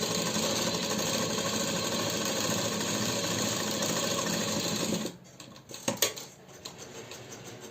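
Sewing machine stitching a sozni suit runs in a fast, continuous mechanical whir for about five seconds, then stops, followed by a few light clicks and rustles.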